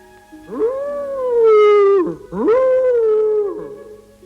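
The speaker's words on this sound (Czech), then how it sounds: "A víš, proč si psi v noci odpovídají štěkáním?" A dog howls twice at night, two long sustained wailing calls, loud and close, each rising then sliding down in pitch with a brief gap between, no talking.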